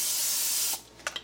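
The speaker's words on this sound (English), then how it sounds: "Start with the double layer of foil wrapper sheets and spray them." Cooking spray hisses onto a double layer of foil wrapper sheets in one continuous close burst, then stops, followed by two quick crinkles of the foil.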